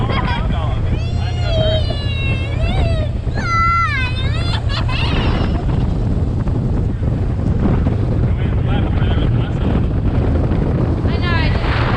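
A new boat slaps through waves with heavy wind buffeting loud and constant throughout, as voices shout and talk over the roar.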